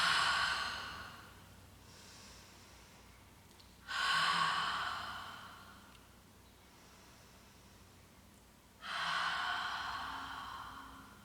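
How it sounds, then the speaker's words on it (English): Several slow breath cycles during a vinyasa flow yoga practice, each a loud breathy exhale through the mouth that swells and tapers, with quieter inhales through the nose between them, close and unaccompanied by talk. "We're going to breathe in through the nose and exhale through the mouth."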